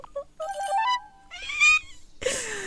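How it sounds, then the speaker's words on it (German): A pet cat in the video game Wylde Flowers gives a few clear, short meows, with a brief burst of game sound at the end. "Katze ist Terras Haustier."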